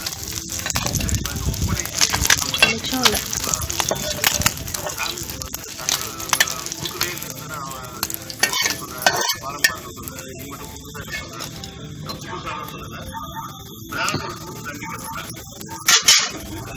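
Fish fries in a pan with loud, dense crackling sizzle throughout, along with clattering of utensils and occasional scraping and bumps.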